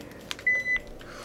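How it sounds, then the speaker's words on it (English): Phone beeping during a Halo: Combat Evolved gaming session, two short electronic tones in quick succession among faint background sounds. "my phone's just gonna keep beeping"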